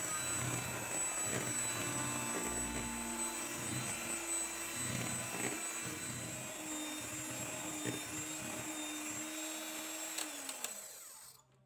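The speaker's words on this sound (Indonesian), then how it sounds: "Kemudian mixer dengan kecepatan tinggi sampai putih kental dan berjejak ya." An electric mixer whirs steadily at high speed beating eggs with sugar, vanilla and emulsifier for a steamed marble sponge cake, a continuous close drone with shifting pitch that cuts off near the end.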